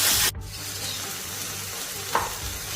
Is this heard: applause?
no